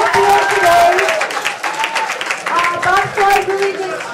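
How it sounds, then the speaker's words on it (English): Audience applause for sponsors at a national South Asian dance championship: steady clapping from a crowd runs throughout, mixed with music and a voice speaking over it. "big shout out to the sponsors, big applause"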